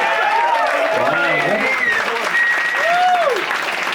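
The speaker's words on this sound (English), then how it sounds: "A round of applause for the horse, the gentleman, okay?" Audience applause at a comedy show after a man proposed on a horse at his partner's workplace, a steady mass of clapping lasting throughout with a voice talking over it.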